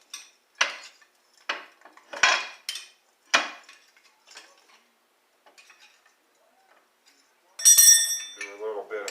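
Metal striking metal as a chisel is driven against an axle bearing on a 1955 Chevy gasser, a run of sharp clanking taps, close and loud, fading to lighter ticks, then a burst of brighter ringing scrapes near the end.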